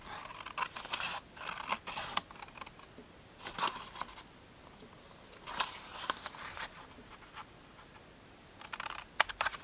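Scissors cutting fabric pieces for a small compartment bag, heard as a series of short, faint snips and crisp clicks spaced through the quiet, with no talking.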